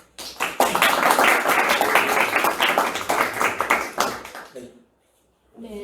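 An audience at a talk on psychological disorders bursts into loud, dense applause welcoming a speaker, sustained for about four seconds before thinning out and stopping, then a voice begins.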